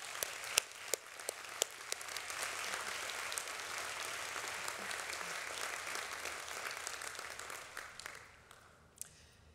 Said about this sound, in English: I'd like to give a round of applause for Dean Satterfield.